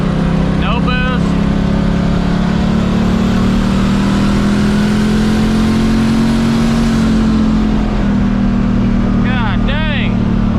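An LS-swapped Ford Foxbody Mustang drives along with a loud, steady engine drone that climbs gradually in pitch. A voice briefly cuts in near the start and again near the end.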